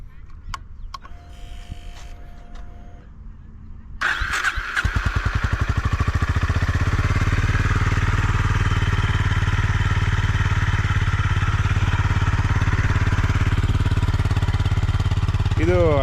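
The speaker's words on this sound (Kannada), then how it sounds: "ಇವಾಗ ಗಾಡಿ ಸೌಂಡು ಅದೊಂದು ತೋರಿಸ್ಕೊಳ್ಳೋಣ" A Honda CB350RS motorcycle fires up after a few seconds of quiet handling noise, then settles into a loud, even, thumping single-cylinder idle that runs steadily close by.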